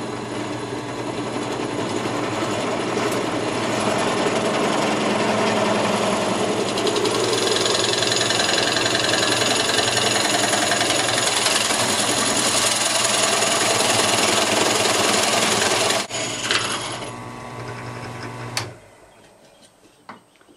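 A power drill bores into wood for a bluebird house, a steady loud whirring grind running continuously for about sixteen seconds before winding down and stopping into near quiet.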